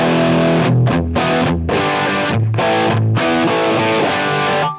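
An electric guitar plays chords and short riffs through a crunch amp model on a Helix LIVE, an overdriven tone, loud and close throughout.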